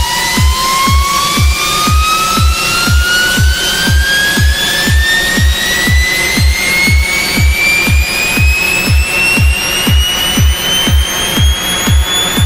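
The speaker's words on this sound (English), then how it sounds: "I could also play with the pitch here and bring the pitch down to -10." Synthesized tuned riser with its pitch lowered to -10. A bright tone glides slowly upward over a steady pulsing low beat and keeps climbing the whole time, loud and dense with no voices.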